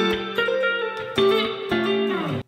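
R&B guitar phrase played as a series of chord stabs and sustained jazzy voicings, about five changes in quick succession, close and clear with a slight effects coloring.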